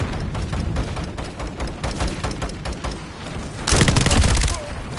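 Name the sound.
artillery strike explosions in video game Call of Duty Modern Warfare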